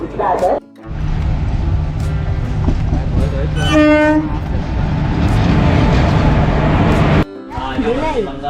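A Diva local train slowing and stopping, with loud continuous rumble and wheel noise throughout, a horn-like tonal blast near the middle, and a sudden drop at the end as it halts; people talk over it.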